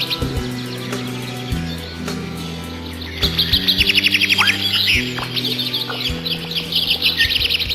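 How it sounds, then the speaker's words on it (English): Harsh, agitated bird chirps and rapid trilling calls in the video game Alone in the Dark, loud and close, repeating in bursts over a steady droning low musical tone with occasional percussive clicks. "Aggressive bird noises."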